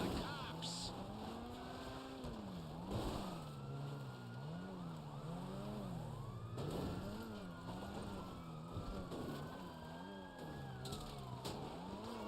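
Police sirens wail and yelp in GTA Online during a chase, rising and falling continuously over engine noise and game sounds, with a person talking over it.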